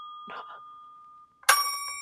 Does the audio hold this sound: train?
no